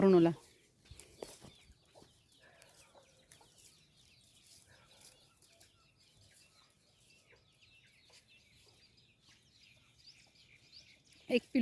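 Soft clucking and chirping from chickens continues at low level, with brief louder bursts near the start and end.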